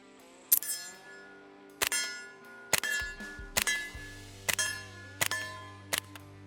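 A Beretta PMXS firing subsonic rounds, the loud bolt cycling with each shot: roughly eight sharp, fairly close metallic cracks at irregular spacing over a few seconds, each snapping off quickly with a brief ringing tail.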